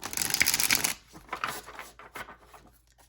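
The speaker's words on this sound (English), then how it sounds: "Let's go ahead and shuffle them, and so you guys can see they shuffle really well." A deck of tarot cards is riffled in a quick, crisp flurry up close, followed by softer tapping and sliding as the cards are squared and handled.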